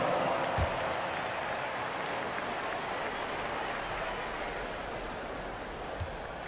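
Crowd applause and cheering swell in a large arena in the video game NBA 2K25, a steady wash of clapping at moderate volume with a couple of faint thuds.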